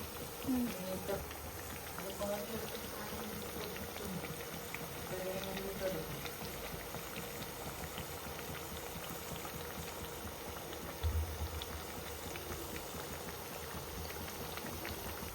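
Onion fritters (ulli vada) frying in hot oil give a steady, dense bubbling sizzle that runs the whole time at moderate level, with brief faint voice sounds early on.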